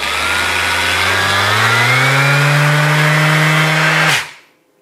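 A Flex ORE 5-150 EC random orbital sander runs up through its speed settings to full throttle, a loud close whine that climbs steadily in pitch for about four seconds, then cuts off and winds down abruptly.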